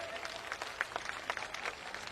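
Faint, distant applause from a crowd at an outdoor Jan Suraaj rally in Saran district, a loose patter of scattered claps rising and falling without any voice over it.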